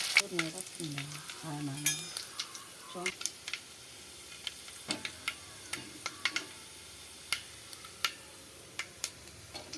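Curry leaves are dropped into hot tempering oil with cumin seeds for a raw banana fry, setting off a faint sizzle with scattered sharp pops and crackles, preceded by brief talk.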